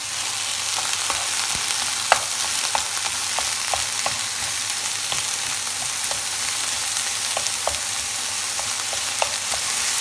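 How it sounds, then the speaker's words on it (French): Chicken browning in a pan for a curry chicken and broccoli puff pastry, a steady close sizzle and crackle with scattered sharp pops and spatters throughout, no talk. "Et on va mettre le poulet à cuire. À faire revenir."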